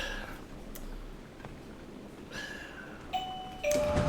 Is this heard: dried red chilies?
no